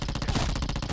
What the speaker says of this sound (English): I'm sitting here getting shot by this guy.